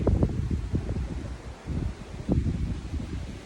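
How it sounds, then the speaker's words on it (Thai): Cool wind blows at the Pha Hua Nak cliff viewpoint in Chaiyaphum under darkening rainy skies, a steady rushing buffet with gusty rustling bursts close to the microphone. "บรรยากาศดีจังเลย ลมพัดเย็นสบายสบาย"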